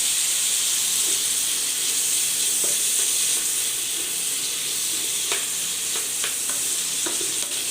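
Chicken sizzles and fries in a pan, a loud, steady hiss with occasional pops and stirring scrapes close by.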